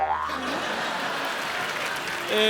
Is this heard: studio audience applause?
yes